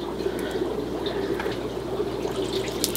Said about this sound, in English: Spilling water, so that's good. It's coming out pretty fast.